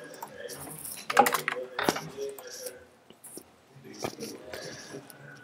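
Keys clatter on a computer keyboard in a scattered, uneven burst while someone speaks softly over it, fairly close but not loud.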